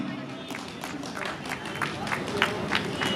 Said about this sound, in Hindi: ज्योति वाला के लिए जोरदार तालियां